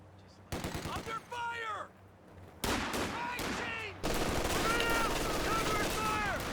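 Machine gun fire in a Company of Heroes tournament match on a British front, rattling out in sharp repeated bursts amid loud battle noise, with whistling shots and a denser barrage toward the end.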